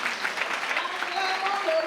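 A church congregation claps steadily through a Sunday worship service in Guinea, the dense applause loud and continuous, with singing or voices mixed in beneath it.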